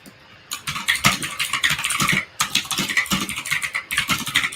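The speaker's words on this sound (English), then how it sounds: "Typing very softly." Soft typing on a computer keyboard: close, steady bursts of light keystrokes with short pauses between runs, heard alone without any voices.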